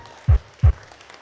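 At a wedding celebration, two short loud claps ring out in quick succession, each a single sharp burst from a group clapping together, close and distinct against a quiet background.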